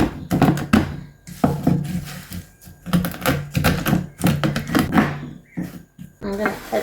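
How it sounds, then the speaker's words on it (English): Knife chopping about two tablespoons of large pumpkin seeds into smaller pieces on a board, giving a run of close, uneven thunking cuts in quick bursts with short pauses between them. "This is about 2 tablespoons of pumpkin seeds. So for this one, I'm gonna cut them a little bit so they're smaller."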